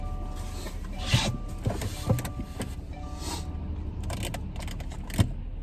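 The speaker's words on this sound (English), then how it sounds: "I'm gonna turn on my car. I'm gonna get the defrosters rolling." A car interior in cold weather as the engine is started and the defrosters are switched on, giving a low steady hum with a few short clicks and rubbing knocks from the controls, close by and with no talking.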